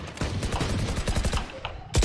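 Rapid automatic gunfire from the video game Valorant rattles in a dense, loud, continuous burst, then breaks off briefly before another sharp volley at the end.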